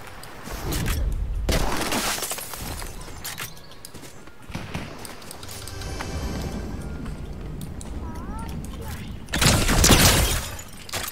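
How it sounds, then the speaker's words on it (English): Gunfire in Fortnite Chapter 4 zero build mode, bursts of shots and impacts that come and go, the loudest cluster near the end, set over game ambience and music. "Shooting west, southwest."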